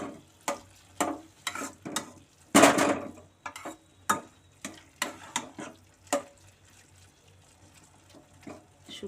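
A spoon stirs carrot halwa with ghee in a pan in a steady rhythm of scraping strokes, each a short close scrape over faint sizzling, with one longer, louder scrape partway through.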